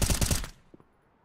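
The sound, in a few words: gunfire in an esports shooter video game match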